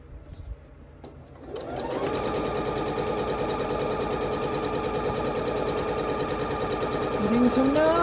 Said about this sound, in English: So we're just sewing them together.